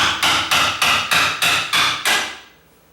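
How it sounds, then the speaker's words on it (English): Seven loud, evenly spaced hammer blows drive out a door's bottom hinge pin using a nail as a punch, each strike a sharp metallic ring with a short decay, close up, ending in quiet. "I always take the bottom hinge pin out first. Hang on to both nail or screwdriver and the pin."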